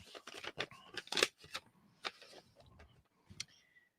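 Paper rustles and tears in short, crisp bursts as an envelope is opened up close, with small ticks and crackles between the louder rips and no speech.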